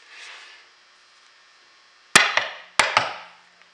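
A steel pick chops into wood, two sharp impacts each followed by a quick second strike, loud and close after a faint scraping start, with no talking.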